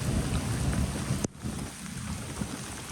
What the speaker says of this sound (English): And now the rain has really picked back up.